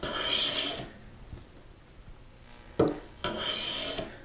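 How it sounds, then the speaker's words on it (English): A handmade wooden spokeshave shaves a wooden workpiece in short rasping strokes, close and distinct, with quiet pauses between passes. "So just keep planing until you sneak up on that cut."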